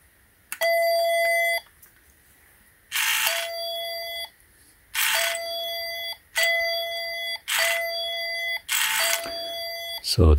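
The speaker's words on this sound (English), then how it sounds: "So that's with the chime." An automatic touchless soap dispenser sounds five short, bright electronic chimes in an even rhythm, each a clear multi-tone ding with brief silence between, close and loud in a quiet room.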